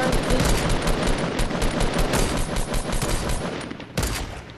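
Rapid gunfire crackles through a Fortnite squads match, sustained bursts of loud shots lasting several seconds, with a short pause near the end before another volley.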